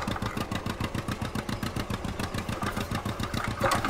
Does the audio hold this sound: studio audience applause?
no